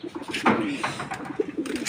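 Pigeons in a home loft give soft, throaty coos in short repeated phrases, close by and moderately quiet.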